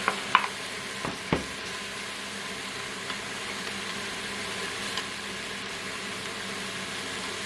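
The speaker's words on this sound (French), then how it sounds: "Voilà, je vais rajouter les oignons." Onions sizzle and fry in a pan alongside chicken for a cream-tomato chicken fillet dish, a steady broadband hiss with a few sharp stirring clicks near the start, moderately loud and with no talk over it.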